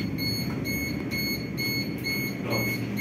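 An LPG gas leak detector buzzer gives a steady, high, continuous tone over a low background rumble, with a faint pulsing pattern on top, in a gas installation training setting.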